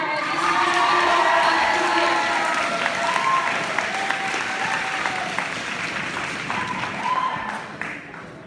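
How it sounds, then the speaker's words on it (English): A crowd at a school sports banquet applauds with sustained dense clapping, a few cheers and shouts rising over it before the applause gradually thins out. "Let's have a big round of applause"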